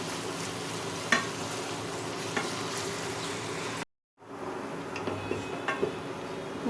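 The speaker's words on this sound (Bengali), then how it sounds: "এখন হচ্ছে হালকা ব্রাউন ছোটো যত টাইম লাগে আমি এতে ভেজে নেবো বেরেস্তার জন্য।" Onions frying in oil until light brown for beresta for chicken biryani, a steady moderate sizzle with occasional clicks, briefly cut to silence midway before resuming.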